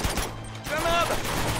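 Enemy gunfire in Uncharted 2 gameplay on PS4, a brief burst of shots mixed with game sound and a voice talking over it.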